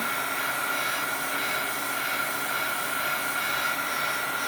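A hot air tool sweeps back and forth over freshly painted, masking-taped artwork to partly dry the paint, making a steady, moderately loud blowing whoosh that continues evenly throughout.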